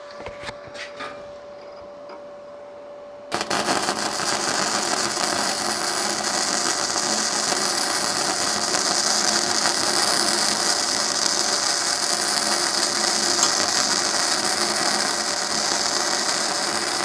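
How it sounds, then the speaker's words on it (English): A gasless R-Tech MIG 180 welder lays a bead on 5mm flat bar, kicking in abruptly after a quiet start and then crackling and sizzling loudly and steadily for over ten seconds, close and uninterrupted. "I'm going to weld it both sides and then we'll do a little bit of a test on it."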